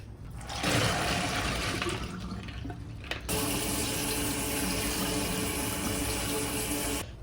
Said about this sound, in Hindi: तो अभी मैं इन्हें इसका पानी जो है वो निकाल देती हूँ।